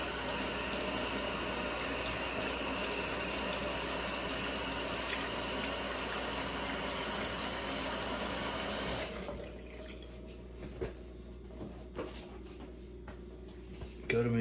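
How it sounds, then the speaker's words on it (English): Tap water runs steadily into a sink as hands are washed, a continuous close hiss for several seconds before the flow stops, leaving faint clinks and small knocks in a quiet room. "let me wash my hands."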